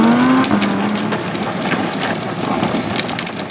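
Kid's mini Tesla toy ride-on car drives fast with a steady whirring rush and scraping of wheels over a rough surface, close and continuous.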